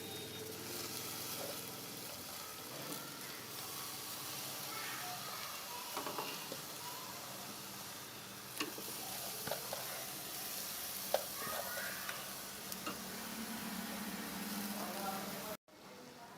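Chopped spinach sizzles and hisses steadily in a hot pan, with occasional stirring and scraping, while a voice talks at times.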